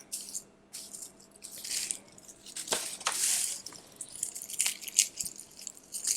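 Garlic cloves knocked and tapped to loosen them from their papery skins while ginger and garlic are prepped in a home kitchen: a scatter of light, irregular taps and crisp crunches at close range, with no talking.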